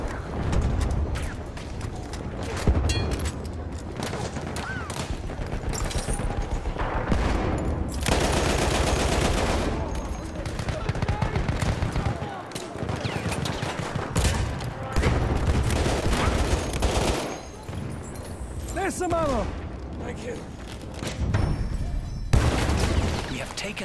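Lewis gun firing in Battlefield 1 on the Suez map, bursts of rapid machine-gun fire mixed with distant explosions and battle noise across the whole stretch, with occasional voices calling out.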